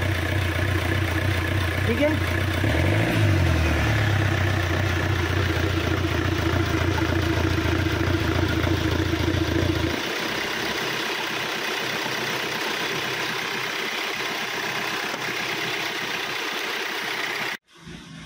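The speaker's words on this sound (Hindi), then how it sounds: "ओके, गाड़ी स्टार्ट हो गया" A diesel car engine, just emergency-started using petrol, idles with a steady low rumble up close, then drops to a quieter, rougher idle partway through before cutting off near the end, with someone speaking briefly.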